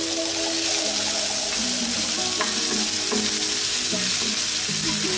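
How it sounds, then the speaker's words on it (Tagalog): Onions frying in a pan for Filipino pancit palabok, a loud, steady sizzle filling the whole clip with small scraping and stirring sounds layered on top, and no voices. "Maglalagay tayo ng onions. Okay, lutuin lang natin siya sandali."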